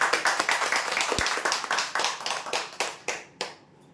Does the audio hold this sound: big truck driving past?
no